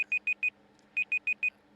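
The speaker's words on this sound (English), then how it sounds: "Some fucking timer that went off." A computer timer alarm sounds two quick groups of four sharp electronic beeps, evenly spaced, clear and fairly close over a quiet low hum.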